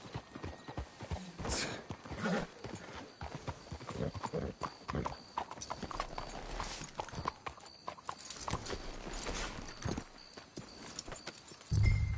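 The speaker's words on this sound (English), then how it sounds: "Let's hitch the horses up ahead." Horses walk along in the video game Red Dead Redemption II, their hooves clip-clopping in a steady, uneven rhythm at close range, with an occasional whinny and a brief low thump near the end.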